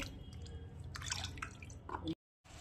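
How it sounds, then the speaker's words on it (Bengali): Mutton being washed by hand under water, with splashing, dripping and sloshing sounds, fairly quiet and close, ending in a sudden brief silence before the water resumes. "তাহলে আমি মাংসটা ধুয়ে নিই"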